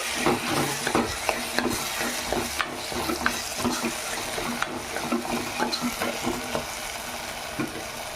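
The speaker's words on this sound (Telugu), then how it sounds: "మళ్ళీ ఒకసారి జరగబెట్టి" Chicken curry with turmeric is stirred in a pan with a spoon, scraping and clinking in steady repeated strokes over a soft sizzle, close and fairly loud.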